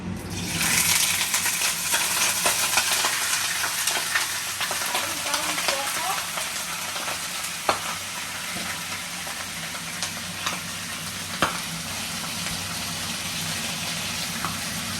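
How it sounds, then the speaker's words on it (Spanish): Chicken sizzles in hot oil in a pan as a steady, close frying hiss with occasional small pops and crackles, heard on its own throughout. "Yo ya lo tengo bien limpio y ahora se lo ponemos al aceite."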